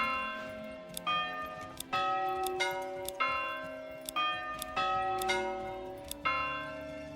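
Church bells in the medieval city-builder game Manor Lords peal in a steady sequence of about a dozen struck tones, each ringing on and overlapping the next, loud and alone.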